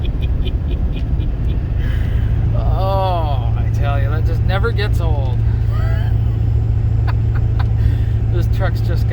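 A 2001 truck with an LB7 engine accelerates from 0 to 80, giving a loud, continuous engine roar and drone heard from inside the cab while someone talks over it.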